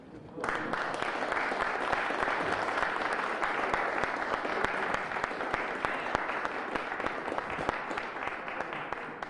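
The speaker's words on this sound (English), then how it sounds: "Let's give him another round of applause." Audience applause for speaker Lazim at a Black American Heritage Month honoring event in Springfield: sustained, even clapping from a large crowd, full and steady throughout.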